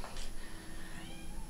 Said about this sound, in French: mon chat, il miaule parce que j'ai fermé la porte